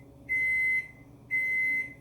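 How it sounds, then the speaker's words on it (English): Electric kitchen oven preheated to 375 degrees signalling it is ready: two sustained high electronic beeps, each about half a second, separated by a short gap, clear over faint room noise. "that's what you're hearing right now is the oven ready because it's already at 375"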